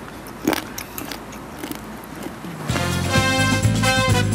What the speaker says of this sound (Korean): 이 오돌뼈를 한번 씹어보도록 하겠습니다